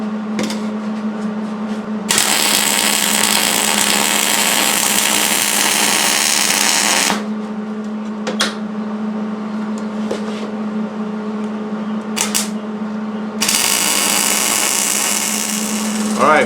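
Rebar being welded sizzles in loud steady bursts, each lasting several seconds, with quieter gaps where a low electrical hum from the running welder carries on and brief crackles and clicks break through.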